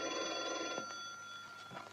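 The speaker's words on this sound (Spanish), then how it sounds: "Llama el teléfono." A telephone bell rings in two short bursts of bright, trilling tones, fairly faint and heard over soft background music.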